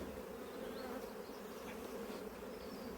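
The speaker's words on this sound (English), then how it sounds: "There are a lot of bees in here, I've got to say." Honeybees crowded inside a busy beehive give a dense, steady buzz, close and continuous, with no voices.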